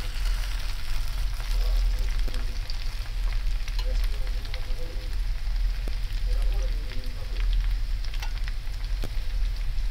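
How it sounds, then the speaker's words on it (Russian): Potatoes and onion fry in a pan, giving a constant crackling sizzle with occasional sharper pops and a faint muffled voice in the background. "картошечка жарится с лучком"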